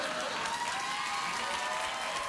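Studio audience at a late-night talk show applauding, a dense steady wash of clapping with faint cheering mixed in, sustained and even for the whole stretch.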